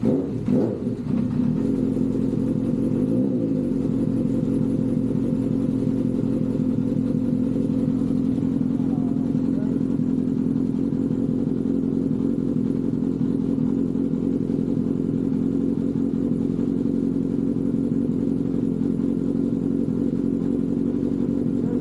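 A Honda CB750 motorcycle engine fires up after a brief crank and settles into a loud, steady idle close by, running evenly without pause.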